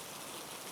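Steady rain falls in a dense, even hiss, a constant wash of drops on surfaces with no breaks and no voices.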